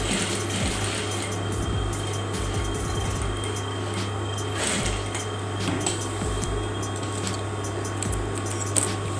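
Sewing machine stitching black thread along a hoodie pocket, a steady mechanical whir with rapid rhythmic needle clatter in short bursts and pauses, close and moderately loud.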